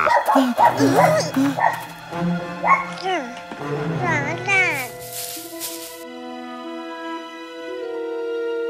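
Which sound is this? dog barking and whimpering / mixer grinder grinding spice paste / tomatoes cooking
dog barking and whimpering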